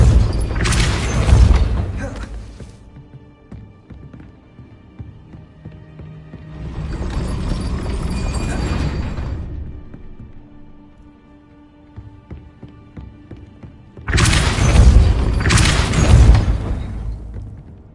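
Depulso spell casts in the game Hogwarts Legacy land as three heavy whooshing booms with deep rumbling bodies, each several seconds long and separated by near-quiet gaps, the last one doubled.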